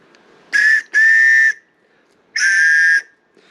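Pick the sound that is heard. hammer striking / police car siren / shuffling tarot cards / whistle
whistle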